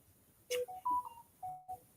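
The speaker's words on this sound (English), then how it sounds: "I always get the notification through on my phone as soon as I start a live" A phone notification plays a short run of clear electronic beeps at different pitches, close and fairly quiet, with no talking over it.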